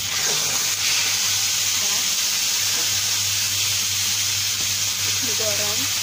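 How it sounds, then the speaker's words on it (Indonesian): Duck pieces fry in a pan with loud, continuous sizzling and hissing oil, broken by occasional stirring sounds, and a voice speaks briefly over it. "bebeknya kita goreng. Tujuannya supaya bebek ini nggak terlalu amis."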